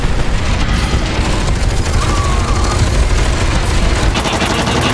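Heavy automatic gunfire and booming impacts during a mech combat sequence in a horror video game, dense continuous bursts close and loud with no pause.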